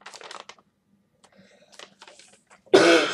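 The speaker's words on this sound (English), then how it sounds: "Have a cough." Quiet scattered rustling and tapping, then one loud, harsh cough bursts out close to the microphone at the end.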